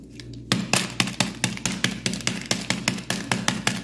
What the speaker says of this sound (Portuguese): Agora, nós vamos quebrar os biscoitos.